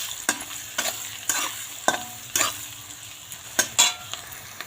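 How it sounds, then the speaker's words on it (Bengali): Boiled potatoes with salt and turmeric fry in a pan while a utensil stirs them, giving a steady close sizzle broken by repeated sharp scraping strokes, about eight across the stretch, with no talking. "এখন আলুগুলো ভালো করে ভেজে নেব"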